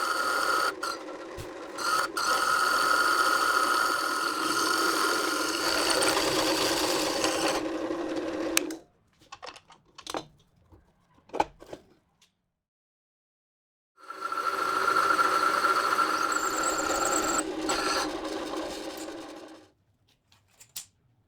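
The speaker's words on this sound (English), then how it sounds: "I'm going to drill them all first with this hole saw and then glue them together afterwards" A hole saw bores through scrap wood on a drill press, a loud steady grinding whine in two long runs of about eight and six seconds, separated by quiet with a few light knocks and handling sounds.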